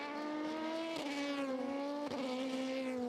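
An Aston Martin race car at the 2017 24 Hours of Le Mans accelerates hard out of the second chicane, a loud, sustained engine note climbing through upshifts, heard close and alone.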